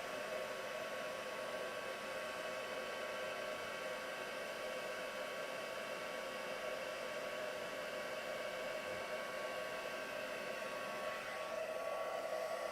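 A handheld heat tool blows hot air in a steady, even whir that holds for the whole stretch, fairly quiet and close, with no talking.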